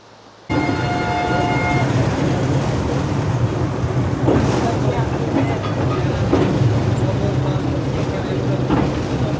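A narrow gauge train on the Apusenilor railway in Romania rumbles along close by, its steady loud rolling noise broken by periodic rail clatter and squeals, with brief voices underneath.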